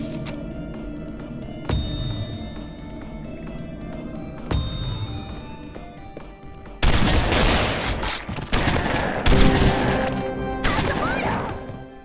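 Gunfire from the video game Doom, loud repeated blasts with sharp impacts, first spaced shots, then a dense, rapid volley of crashing bursts over a droning background, no voices.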